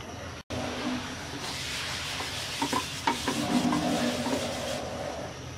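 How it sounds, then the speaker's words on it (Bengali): A tissue paper is wiped across an oiled frying pan in a kitchen, giving a steady soft rubbing hiss with a few faint knocks throughout, no voices. "ফ্রাই প্যানটা একটু তেল লাগিয়ে মুছে নিচ্ছি একটা টিস্যু পেপার দিয়ে।"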